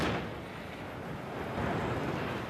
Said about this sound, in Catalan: D'esta manera esclatava esta bomba situada en un carrer de Gandia l'any 2001.